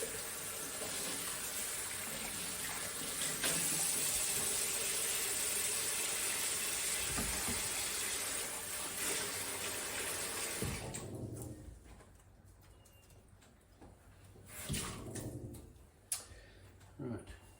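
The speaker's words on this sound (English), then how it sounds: "Just give these a little bit of a wash." Beans are rinsed under a running kitchen tap, a steady rush of water for about eleven seconds that then stops, followed by quieter handling clatter and a few knocks.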